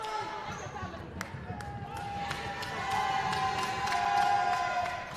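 A crowd chants in a high school gym during a PSAL boys 3A city playoff final between South Bronx Prep and Brooklyn Law and Tech. The chant swells midway under a commentator's voice, with sneaker squeaks and basketball bounces.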